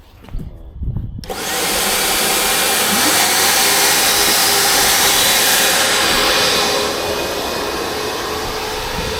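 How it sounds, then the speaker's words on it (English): A triple-motor deck cleaning machine used on decking starts after a few faint sounds and then roars with a loud, steady, broadband motor drone that holds close and constant for several seconds. "you don't want to do with this triple motor is flick all these motors on at the same time"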